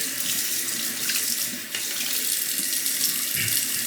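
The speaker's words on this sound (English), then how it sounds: "Make sure to rinse the blade out." Running tap water rinses a knife blade over a sink, a loud, close, continuous splashing rush with slight changes as the blade passes through the flow.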